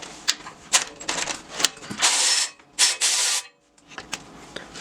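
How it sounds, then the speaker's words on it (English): Ratchet removing a nut from a winch fairlead bolt, close, with short bursts of clicking and rasping strokes separated by brief pauses. "we're just going to use a ratchet and remove the nut"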